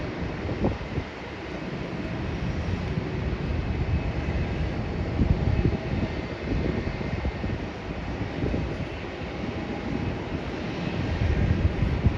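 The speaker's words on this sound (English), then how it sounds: "I'm taking off from behind the buildings on the east-west runway" An airplane takes off from an east-west runway behind buildings, heard as a broad, steady distant jet roar mixed with wind buffeting the microphone, sustained for the whole stretch.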